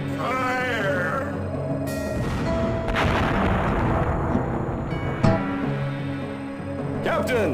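Ship cannons boom in the pirate game RedJack: Revenge of the Brethren, several heavy blasts rolling out over game music and ambient effects.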